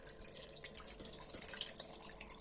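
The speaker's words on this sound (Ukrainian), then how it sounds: "Все це будемо заливати водою 3 літри." Water runs from a tap into a pot for kharcho soup broth, a steady hissing splash at moderate level with small drips and gurgles, no voices.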